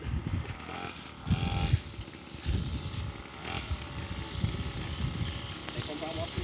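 A mini motorcycle rides a rocky motocross trail, its small engine buzzing and revving unevenly up close, mixed with wind noise and rattling, while people talk.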